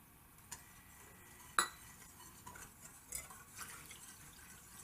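Salt is stirred into four cups of water in a large glass bowl: soft sloshing with a few sharp clinks of a utensil against the glass, quiet and close, with no talk.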